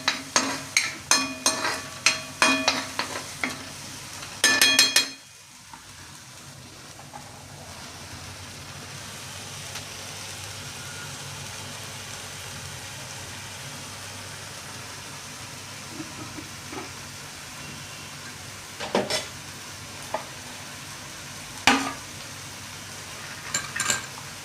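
Onion and tomato frying with roasted masala in a pan, a spoon clattering against the metal in quick bursts at first, then a steady low sizzle with occasional scrapes of stirring.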